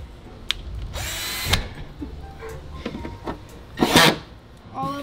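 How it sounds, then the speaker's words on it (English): A power drill bores holes for a big rear wing on a Honda S2000, with two loud short bursts of whirring and grinding amid quieter clatter and handling noise. "Holes are drilled"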